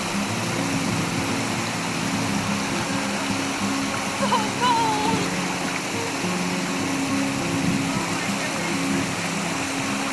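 River rapids on a Continental Divide Trail crossing give a constant, full rush of water, steady and close, with faint voices now and then beneath the roar.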